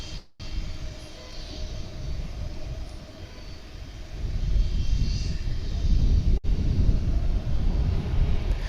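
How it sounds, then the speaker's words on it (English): Japan Airlines Boeing 787 Dreamliner departing DFW for Narita, a low jet rumble that grows noticeably louder about halfway through, broken by two brief dropouts, with no voices present. "There's a Japan Airlines flight, the Dreamliner, that's headed out to Narita."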